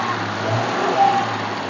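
A 1968 Ford F-75 pickup engine runs steadily up close with a slight rev swell midway, a smooth low rumble heard alone without voices.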